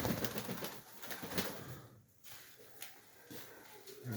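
Pigeons in a dovecote coo softly at close range, with low throaty calls and some rustling, fairly quiet overall.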